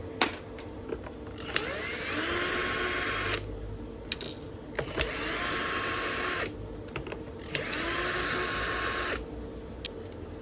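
An electric screwdriver backs screws out of an Aiwa x100 portable speaker, three sustained whirring runs of about two seconds each separated by clicks and handling noise, close and fairly loud.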